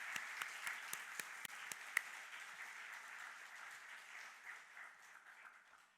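A church congregation claps during a Sunday afternoon worship service, with a few loud, distinct claps up front blending into steady, dense applause that gradually fades.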